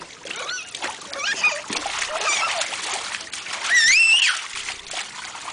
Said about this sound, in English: Splash, splash, splash!